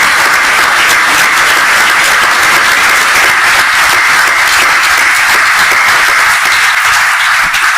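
A loud, sustained round of applause fills the hall at a book presentation, many hands clapping evenly and continuously for nearly eight seconds with no voices heard.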